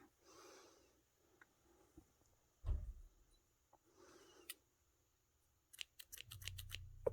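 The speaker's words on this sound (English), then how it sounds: "These are not the sharpest scissors by any means." Scissors snip through yarn repeatedly in quick, close crisp cuts while making a pom-pom, with soft rustling and a few breathy sounds in between.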